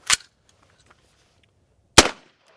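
Two sharp suppressed 300 Blackout rifle shots from a gassed-down gun, about two seconds apart, each a loud close crack with a short tail, separated by near silence.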